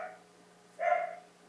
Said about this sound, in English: The dog agrees with you.